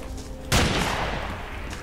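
Gunfire in Battlefield 2's Omnicide mod: a sudden loud burst of shots erupts midway after a quieter stretch, then rolls on as a dense, echoing roar of fire.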